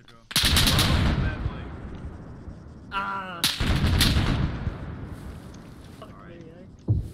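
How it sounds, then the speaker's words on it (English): Medium auto cannon fire in a combat video game set on a German forest patrol, loud booming bursts with heavy echoing tails, several blasts spaced across the stretch, mixed with other battle noise. "Medium auto cannon, I'd say."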